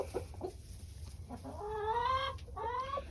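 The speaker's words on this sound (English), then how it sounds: "We only have 6 birds in here right now" Hens in a small backyard chicken coop cluck and call with drawn-out, rising squawks, fairly close, overlapping one another against a low background hum.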